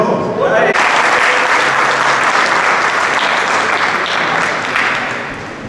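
An audience at a temple celebration claps in a loud, dense burst of applause that starts abruptly and holds steady before tapering off, with voices faintly mixed in.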